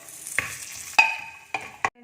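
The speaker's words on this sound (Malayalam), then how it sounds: "കാഷ്യൂ നട്ടും കൂടെ നമുക്ക് വറുത്തെടുക്കാം" Cashew nuts fry in ghee for parippu payasam, a soft continuous sizzle broken by several sharp metallic clinks and scrapes of a spoon stirring in the pan, close and without voices.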